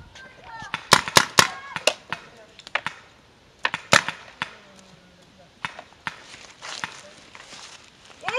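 Paintball guns fire at an outdoor paintball field in sharp, irregular pops, some in quick clusters and others spaced apart, at varying distances. Players talk and call out over the shots.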